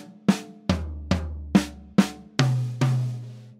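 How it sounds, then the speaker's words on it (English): A paradiddle played on drums: seven separate strokes at a moderate, even pace, each one ringing briefly, with the last two landing on a lower-pitched drum, close and clear with no talking. "Probably the most famous combination of singles and doubles is the paradiddle."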